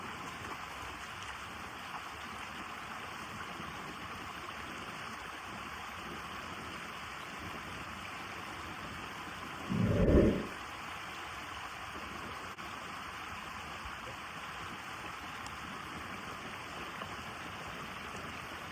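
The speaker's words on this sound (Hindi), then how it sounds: "अब मैं मुँह धोता हूँ" Water runs steadily from a tap while someone washes their face, with one short, louder splash near the middle and no voices.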